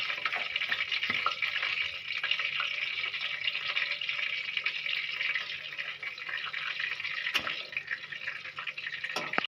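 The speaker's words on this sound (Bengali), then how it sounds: "এবার ফোড়নে দিয়ে দেবো অল্প কালো জিরে দিয়ে দেবো দুটো শুকনো লঙ্কা" Nigella seeds and two dried red chillies crackle in hot oil for a vegetarian doi potol curry, a steady close sizzle with scattered pops running unbroken throughout, no talking.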